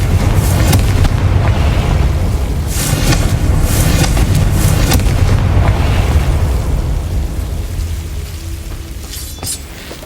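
A Confringo fire spell blasts in the Hogwarts Legacy game on PS5, a loud booming explosion with crackling bursts that rumbles on for several seconds, then slowly fades with scattered pops near the end.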